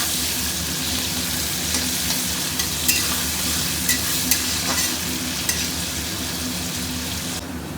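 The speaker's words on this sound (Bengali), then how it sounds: "এবার দেবো পেঁয়াজ। একটু হালকা করে, হালকা ব্রাউন হওয়া পর্যন্ত এটাকে একটু ভেজে নেব।" Onions frying in oil in a pot for mutton curry, a steady broadband sizzle with occasional sharp crackles and stirring scrapes, close and continuous with no talking.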